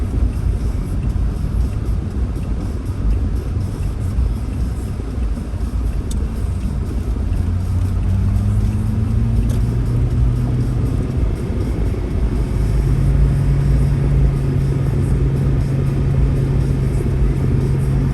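A car driving and accelerating in Phoenix, heard from inside as a loud, continuous engine rumble with tones that climb and settle as it gains speed, with no talk over it.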